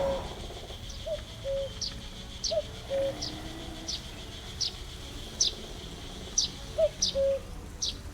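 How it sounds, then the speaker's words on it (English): A cuckoo repeats its two-note call several times at moderate distance, with other birds chirping faintly and an insect hum running underneath. "A cuckoo."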